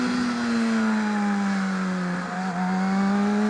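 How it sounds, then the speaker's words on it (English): An engine revs during a heel-toe downshift with rev matching, a smooth rising and falling tone on a bike, heard alone and moderately close. "So it's heel toe downshift."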